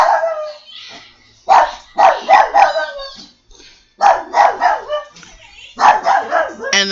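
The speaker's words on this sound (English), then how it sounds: "that's our furry baby in the background. Barking." A dog barks repeatedly in bursts of several sharp barks, fairly close and loud, with quiet gaps between the volleys inside a home.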